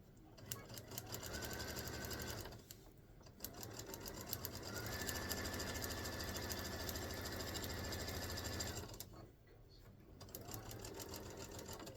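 An embroidery machine stitching a pot holder runs in rapid, close mechanical bursts with a high whine, pausing twice briefly before resuming, loud and steady between stops.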